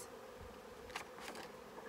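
A faint, steady insect buzz drones on, with a few brief louder passes as bees fly near, no voices present.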